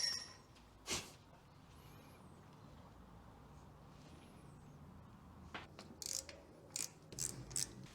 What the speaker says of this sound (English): Let's get some bolts up in this.